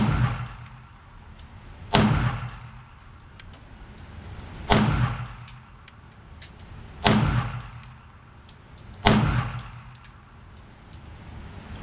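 An HK VP9-L pistol fires five sharp, loud shots at roughly two-second intervals, each with a ringing echo that dies away, and no voices between them.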